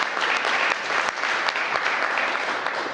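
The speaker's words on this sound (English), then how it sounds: "Give them another big round of applause." An audience at a mayoral event on early childhood education gives a dense, steady round of applause, many hands clapping together at moderate loudness throughout.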